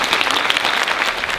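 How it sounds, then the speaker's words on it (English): Audience applause at the Quitman Dogwood Pageant 2019, a steady, loud wash of many hands clapping throughout. "Let's give one more round of applause."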